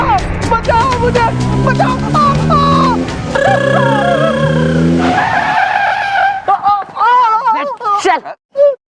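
A car drives hard and skids with loud screeching tires and engine roar, close and intense, amid dramatic shouting voices in a TV drama scene.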